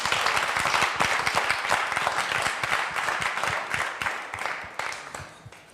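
An audience at a televised gospel music show claps steadily in sustained applause, a dense continuous patter of many hands that tapers slightly toward the end.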